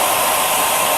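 A heat gun or hair dryer warming decals on a 1:12 Tamiya Repsol Honda RC211V model fairing, a steady close rush of blowing air with no voices.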